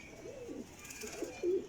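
Pigeons, prized racing or flying birds kept by a breeder, give soft rolling coos, a couple of low wavering calls close by in a quiet space.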